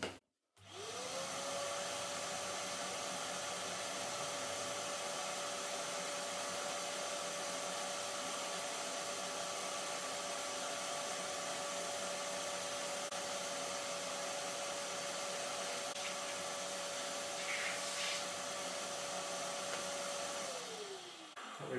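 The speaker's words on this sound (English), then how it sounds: "So we'll run the hoover as well," A hoover vacuum cleaner runs steadily while a wood stove is cleaned out, a loud constant motor whine close by that starts up, holds for about twenty seconds and shuts off.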